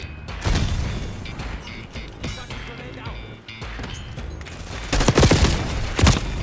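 Grenade blast in Call of Duty Black Ops 6 gameplay, a loud booming burst near the end among a dense mix of gunfire, pops and impacts, with no talk over it.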